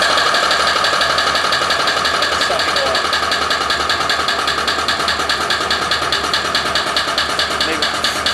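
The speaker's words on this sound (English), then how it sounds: "All I would have to do is basically turn on this pump" A small electric oil extraction pump from a Mobile Lube LT-1500 runs with a steady, rapid buzzing rattle, loud and close, continuing unchanged throughout.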